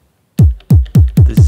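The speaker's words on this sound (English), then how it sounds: "These are some newer kicks I made" Synthesized kick drum programmed on an Elektron Digitone, four punchy hits with a sharp click and a booming pitch-dropping low tail, evenly spaced after a brief silence, loud and alone.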